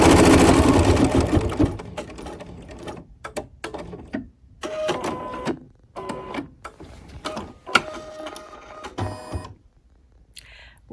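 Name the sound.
machine stitching a pin cushion design in hoop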